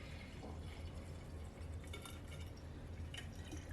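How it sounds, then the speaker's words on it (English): Homemade mead siphoned from a kit into a bottle, a faint, steady trickling fill with soft liquid gurgles and occasional drips, quiet and close with no talk. "Okay, so we're siphoning into the bottle. It's filling up"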